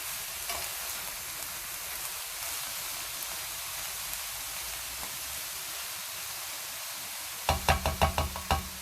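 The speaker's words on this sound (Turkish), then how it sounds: "Ara ara karıştırarak otlarımı kavurmaya devam ediyorum." Low, steady sizzling of mixed herbs sautéing over very low heat in a pot, then a burst of sharp knocks and scrapes as they are stirred near the end.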